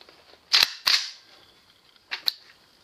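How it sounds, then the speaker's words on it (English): An AK rifle is loaded: a magazine seats and the bolt is pulled back, giving four sharp metallic clacks close by. Two come in quick succession, then a pause, then two more. "Okay, shooters, load and unload with the AK."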